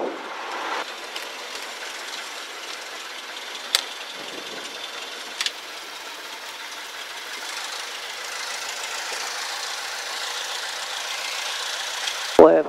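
A Cessna 152 taxis with its engine droning steadily in a muffled cockpit, a constant low rumble with a few brief clicks and a sharp noise at the end.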